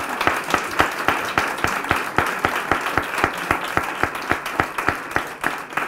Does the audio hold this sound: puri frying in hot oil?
no